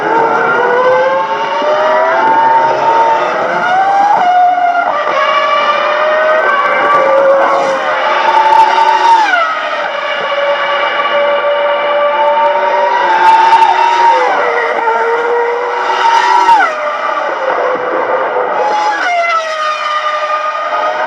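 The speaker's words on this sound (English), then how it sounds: "26 laps to go here at Imola, and Michael Schumacher is on the rampage." Formula 1 cars at Imola during the 2005 San Marino Grand Prix, high-revving engines screaming loudly and continuously, pitch sweeping up and down through gear changes as cars pass, with no talking.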